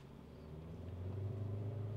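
From inside the cabin, a 2023 MG Hector facelift's engine is revved toward high RPM, a muffled low hum that steadily rises and swells in pitch and loudness, with no talking.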